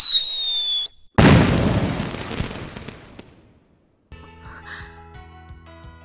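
A single loud firework burst in a video game story scene booms suddenly after a brief tone, then crackles and decays over a few seconds before quiet music takes over.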